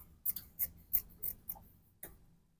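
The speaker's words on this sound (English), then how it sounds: "Then I'll slit it from the neckline." Scissors slit a fabric garment from the neckline in a series of about seven crisp, close snips at a steady rhythm, with a short pause before the last cut.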